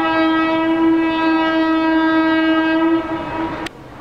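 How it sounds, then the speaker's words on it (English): The Brindavan Express, hauled by a WAP7 electric locomotive in India, sounds one loud, steady horn blast lasting about three and a half seconds, close by, before it cuts off. "All these captures are of Honking Brindavan"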